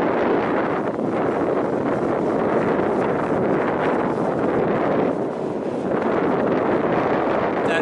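Strong wind buffeting the microphone beneath a helicopter rotor, a steady, heavy rush of noise that swells and dips slightly, no voices.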